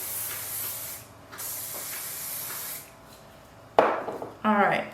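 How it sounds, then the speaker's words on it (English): Hair spray hisses in short broadband bursts during styling, with quiet gaps between sprays and some handling noise near the end. "we'll give a little spray"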